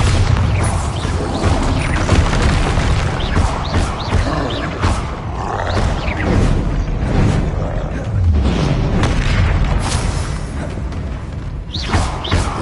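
Bombarda spell blasts in Hogwarts Legacy combat, a dense, loud rumble of overlapping booms and roars running continuously without a break.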